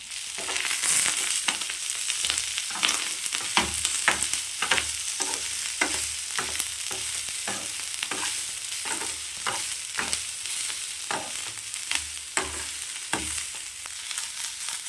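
Tomato and grated coconut sauté in a pan for channa masala, a continuous loud sizzle broken by regular scraping stirs, close up, with no voices.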